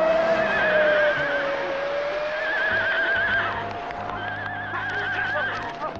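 Horses whinny repeatedly in a loud, quavering series, their cries rising and falling over a steady mechanical hum with faint hoof clatter underneath, no voices present.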